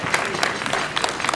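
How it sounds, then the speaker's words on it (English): At a FAWE Uganda fundraising dinner, guests give a brief burst of scattered applause, moderately loud and a little uneven. "Let's give them a little applause."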